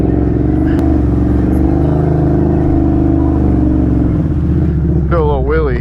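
A Can-Am Renegade ATV engine drones loud and steady close by at a lakeside, rising into a sharp rev near the end as it pulls a wheelie.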